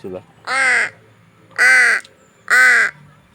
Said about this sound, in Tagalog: so niara ang atong uwak